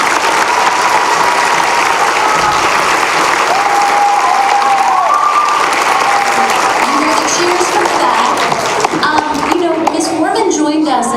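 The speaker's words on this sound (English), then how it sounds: "I'd like to give a huge round of applause to Miss Foreman." Loud, dense audience applause at a middle school winter concert fills the room for about eleven seconds, with a few cheers and voices rising near the end.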